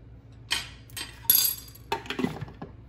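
A tablespoon clinks against a pan as thickener is added to a beef rib stew with sweet potato, giving a handful of light, close metallic taps in an otherwise quiet kitchen.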